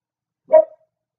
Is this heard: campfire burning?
no